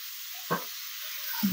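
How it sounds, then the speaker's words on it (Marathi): Pav bhaji vegetables hit melted butter in a pan, giving a soft steady sizzle with a brief thud of food landing and a faint scrape near the end, heard close and without voices. "बटर मेल्ट झालाय, त्यामध्ये आपल्याला थोडीशी ही भाजी टाकून घ्यायची आहे."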